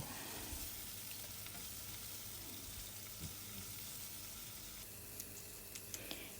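Mushrooms, Cortinarius caperatus, frying in butter in a pan, a steady close sizzle running throughout with occasional light stirring clicks and taps toward the end.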